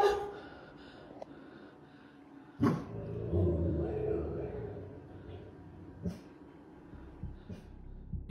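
Dogs bark in short sharp bursts from a played recording, a loud outburst near the start of the second half and a few isolated barks later over a dim indoor background.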